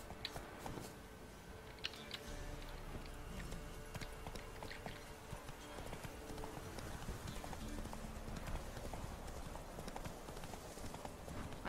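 Horse hooves clip-clop steadily in The Witcher 3, a continuous trotting rhythm over game ambience and background music.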